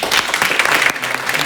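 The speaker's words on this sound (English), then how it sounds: "let's give all these guys a round of applause." An audience at an investor club meeting gives a round of applause, with dense, steady clapping that fills the room and stays loud throughout.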